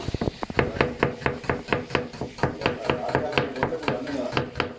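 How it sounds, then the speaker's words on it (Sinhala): A knife chops onions for sambol on a board in a shared room kitchen, a steady run of about twenty sharp, evenly spaced knocks with faint voices underneath. "සම්බෝලට ලුණු කපනවා."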